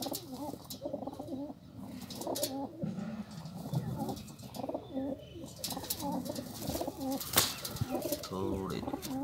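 Red-chinned pigeons coo in soft repeated throaty phrases close by, with a brief flutter of wings, while people talk quietly nearby.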